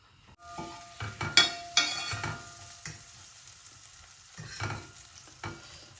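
Boiled food fried in oil with curry powder and turmeric, a soft sizzle under repeated stirring and scraping of a utensil against the pan, with a few louder clatters and no talk.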